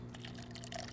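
Juice poured from a jug into a glass, a short, close, continuous liquid trickle and splash lasting about a second, heard alone with no talk over it.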